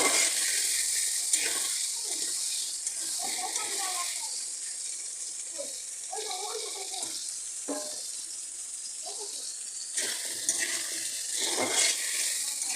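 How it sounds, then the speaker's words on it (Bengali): Potato pieces frying in a pan for a hilsa and papaya curry make a continuous hissing sizzle with occasional stirring scrapes. A person talks intermittently over the cooking. "সব আলুগুলো খুব ভালো করে ভেজে নেব"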